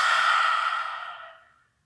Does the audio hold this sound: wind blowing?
no